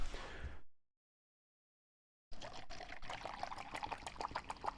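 Ink-saturated fountain pen rinse water is dumped into a sink, a steady pouring and splashing stream that follows a brief sound and a silent gap, heard close and alone.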